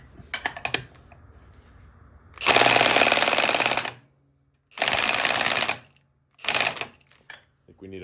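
A cordless impact wrench with a 1 1/4 socket hammers in three bursts, the longest about a second and a half and the last short, loud and close, with brief talk and handling noise before the first burst.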